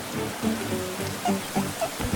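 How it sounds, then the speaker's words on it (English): Steady rain falling, a continuous hiss with scattered patter of drops, fairly close and even throughout. "the rain began to pour down heavily"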